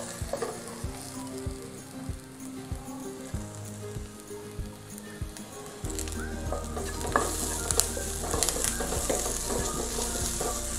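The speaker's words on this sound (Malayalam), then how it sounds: "അപ്പം ആദ്യം കുറച്ച് കറിവേപ്പില ചേർക്കാം ആദ്യഘട്ടം എന്ന നിലയിൽ." Curry leaves sizzle and crackle loudly in hot oil in a pan while beef kumbanadan is cooked, with stirring clatter at first and a denser, steady frying hiss after the leaves hit the oil.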